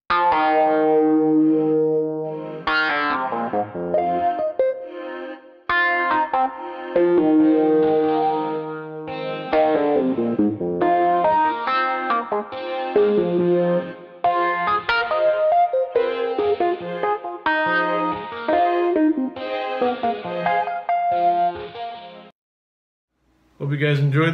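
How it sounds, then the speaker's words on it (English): Organ rhythm chords and an organ lead line play together in a mellow, chill tune with a programmed drum part. The sound is processed with chorus and echo-like effects and runs full and steady, with no talking. "I added in another rhythm part for the organ, and I added a lead part in the organ as well. And together it sounds like this."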